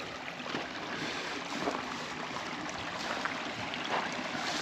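A creek flows with a steady, close rushing and babbling of water, continuous and moderately loud, with no voices.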